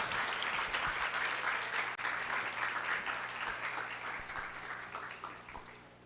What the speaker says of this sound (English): A round of applause for our top 20 national finalists.